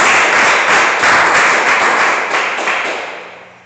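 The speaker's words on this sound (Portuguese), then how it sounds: "E as palmas que é para Jesus" A church congregation at a worship service claps for Jesus, loud steady applause from many hands filling the room, then gradually fading toward the end.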